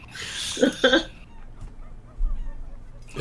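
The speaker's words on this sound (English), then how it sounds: "It's the chickens." Chickens on a farm giving a few short, close, squawking clucks near the start, followed by quieter, scattered calls over a low background rumble.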